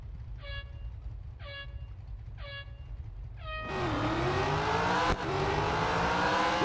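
A race car in Real Racing 3 starting up after a few short chirping tones, its engine then droning loudly and steadily with a rising pitch as it revs, one sharp click partway through.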